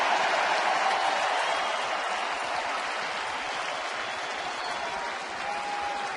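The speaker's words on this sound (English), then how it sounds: "he wants people standing and clapping in the ninth." A baseball home-opener crowd at a Pirates game stands and claps in the ninth inning, sustained applause from a distant stadium audience that holds steady and slowly tapers.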